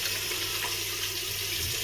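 Water runs steadily from a tap as fingers are wet to lather a bar of handmade soap, a continuous close hiss with no talk.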